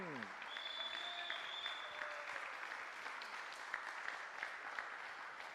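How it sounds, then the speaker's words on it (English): A large crowd claps in sustained, steady applause for athletes at a para shooting world championship women's 10m air pistol event, with a voice faintly heard over a loudspeaker. "a big applause for the athletes from the Republic of Korea"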